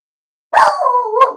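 A single dog bark with a whining, drawn-out tail lasting about a second, close and loud after silence, with a second short yip at the end.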